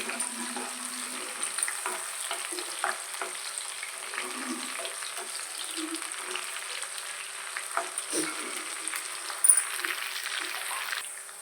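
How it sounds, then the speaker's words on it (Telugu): Dried prawns frying in hot oil in a pan, a steady, fairly soft crackling sizzle with occasional light scrapes and pops throughout. "ఎండ్రాయిలు కాసేపు ఫ్రై అవ్వాలండి"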